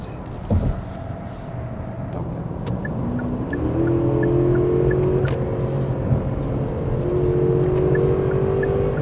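A Genesis G90 sedan engine pulls steadily, its pitch climbing and dropping back in a series of smooth 8-speed automatic upshifts as it accelerates.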